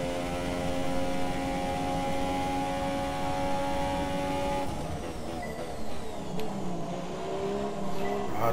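A Formula 1 car engine in the racing video game F1 2017 on a Texas track: a steady, high, buzzing engine drone that shifts pitch partway through as the car changes speed, with no talking.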